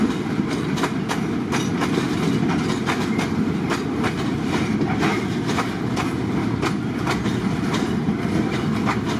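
A freight train rolling through Bang Sue Junction, steady loud rumble with a continuous clickety-clack of wheels over rail joints close by, no voices.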